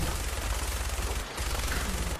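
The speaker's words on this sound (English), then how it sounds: "I'll shoot the Deathclaw" Rapid bursts of gunfire shooting at a Deathclaw in the Fallout 4 video game, loud and sustained with a brief pause partway through, heard alone without talk.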